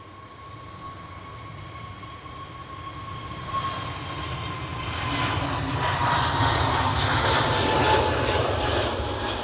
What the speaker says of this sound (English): That 350 is on its way in,